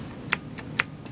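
Keys clacking on an Apple IIc computer keyboard, four or five sharp, separate strokes at an uneven, unhurried pace, close and clear over a low steady hum.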